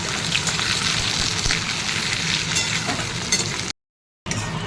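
Onions and spice paste frying in oil in a wok, giving a steady, dense sizzle with bubbling and stirring noises throughout, close and fairly loud, broken by a short silent gap near the end.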